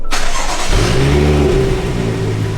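A BMW with a ZF 8-speed automatic transmission cranks and fires up loudly and close by, the engine catching after a short start burst and then settling into a steady, rumbling idle.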